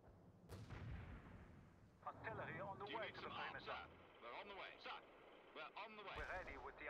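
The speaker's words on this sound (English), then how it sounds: "Artillery on the way, sir." Artillery fire in World in Conflict, a booming shot at the start followed by rumbling impacts, with radio-style voices speaking over the battle noise throughout.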